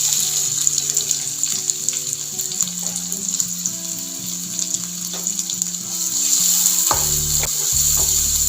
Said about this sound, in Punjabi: ਆਇਲ ਗਰਮ ਹੋ ਗਿਆ ਹੁਣ ਆਪਾਂ ਇਹਦੇ ਚ ਪਾ ਦੇਂਗੇ ਬਰੀਕ ਕੱਟੇ ਹੋਏ ਲਸਣ ਬਰੀਕ ਕੱਟਿਆ ਹੋਇਆ ਪਿਆਜ਼